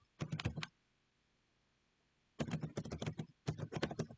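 Rapid typing on a computer keyboard, close and crisp, in three quick bursts of clattering keystrokes separated by a short pause, with no speech.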